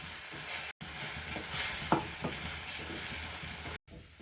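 Chopped tomatoes fry with salt and turmeric in a pan while being stirred, a steady close sizzle with scraping, clinking stirs and brief spits, no talking.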